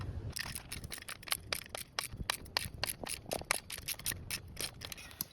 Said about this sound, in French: On prend la clé à cliquer. Et là, on est censé visser.